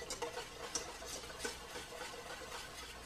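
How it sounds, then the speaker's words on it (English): Salad dressing of white wine and olive oil being stirred in a bowl for a summer fruit and greens salad, giving soft, quiet, irregular clinks and swishes repeating for a few seconds with no talk. "give that a little bit of a stir"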